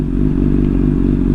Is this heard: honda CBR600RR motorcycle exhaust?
yes